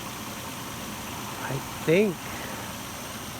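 A 2004 Nissan Frontier engine idles after a rotor and distributor cap replacement, a steady, even low hum under a brief spoken remark.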